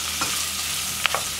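Beans fry in a pan and are stirred for an Indonesian sahur meal, a steady close sizzle broken by a couple of quick scraping stirs, with no voices.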